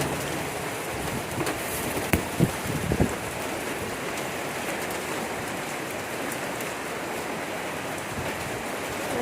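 Heavy rain pouring steadily outdoors on a cold day in Taiwan, a dense continuous hiss with a few nearby drips and taps, no voices.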